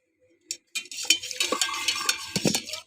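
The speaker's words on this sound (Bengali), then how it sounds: "শরবতটাকে গুলিয়ে নিচ্ছি সুন্দর করে" A spoon stirs mango sherbet made with Tang in a glass or jug, clinking and swishing continuously after a couple of brief taps, close and fairly loud.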